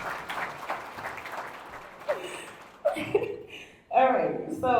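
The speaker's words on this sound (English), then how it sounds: "Round of applause." Audience applause at a graduation celebration, clapping broken up by chuckles and laughter from the crowd, growing louder toward the end while voices talk over it.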